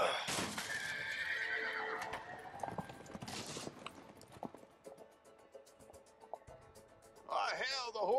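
Horses in the PS4 Pro game A Way Out whinny loudly and clatter as they bolt from a barn, with sharp neighs at the start, in the middle and at the end, over hoofbeats and brief game dialogue.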